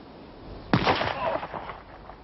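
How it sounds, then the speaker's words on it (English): A single sharp gunshot cracks out, followed by a rumbling echo that fades gradually over a couple of seconds. "But I heard shooting."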